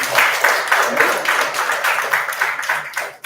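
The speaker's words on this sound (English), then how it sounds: "these CA students, actually they require enormous round of applause" An audience applauds CA students at an academy awards ceremony, dense sustained clapping from a crowd that pulses slightly and fades at the very end.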